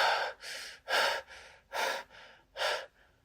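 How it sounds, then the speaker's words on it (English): Shallow, anxious breathing from a worried woman: five quick, airy inhales and exhales in an uneven, gasping rhythm, close and clear with no speech. "shallow breathing"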